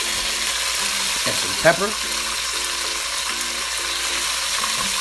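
Beef stew meat browning in a hot pan, a steady close sizzle with occasional stirring scrapes and clinks, while someone talks briefly over it.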